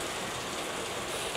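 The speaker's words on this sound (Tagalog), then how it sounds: "Lakas ng ulan." Heavy rain pours down in a steady broadband hiss, constant and fairly loud with no breaks and no voices, outside a small shop.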